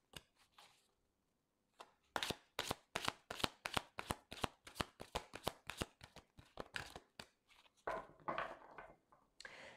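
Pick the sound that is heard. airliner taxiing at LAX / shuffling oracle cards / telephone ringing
shuffling oracle cards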